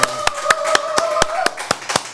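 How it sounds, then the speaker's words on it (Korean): Hands clap in a sharp, regular rhythm, about ten loud claps in two seconds, close and crisp over a faint steady hum. "실제로 박수 치시네"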